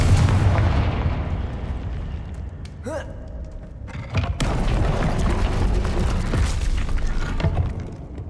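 A Confringo blasting spell goes off in Hogwarts Legacy, a wizarding video game, with a loud near boom and a trailing rumble over busy game ambience, preceded by a short magical whoosh.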